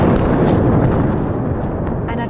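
Explosions from multiple simultaneous Israeli strikes on Beirut sound as a dense, sustained roar of blasts and rumbling booms, loud and continuous, with a couple of sharper pops near the end.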